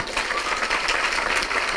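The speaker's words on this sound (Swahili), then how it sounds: "Situpigie presenters wetu makofi." An audience claps for the presenters at a meeting with people living with disabilities at Ngong Racecourse, giving dense, sustained applause at full volume throughout.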